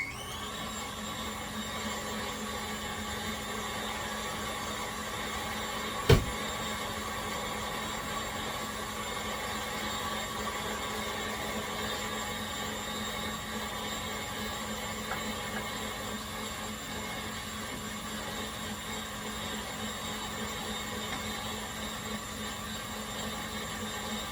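An electric stand mixer beats cake batter with a steady, close motor whir that holds even throughout, broken once by a brief sharp click early on.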